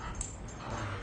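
A puppy whimpers faintly indoors during a home workout, a brief high-pitched whine over a low background hum.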